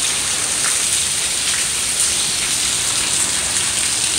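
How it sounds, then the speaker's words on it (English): Rain falls steadily outdoors as a storm builds to the north, a continuous dense hiss of drops with no voices. "Looks like quite a bit of rain might be coming."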